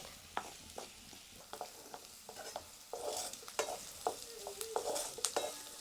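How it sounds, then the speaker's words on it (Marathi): Onion sautés in a pan until reddish, with a soft sizzle under repeated close scrapes and taps of a stirring spoon in an uneven rhythm. The frying gets a little louder partway through. "कांदा आपल्याला छान असा लालसर होसर परतून घ्यायचा आहे"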